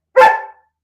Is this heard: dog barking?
yes